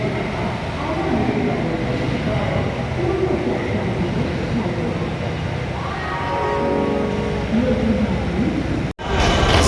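The Howrah–NJP special train at a station, a loud sustained rumble of rolling stock with a rising tonal hum midway, with people talking nearby over it and a brief cut near the end.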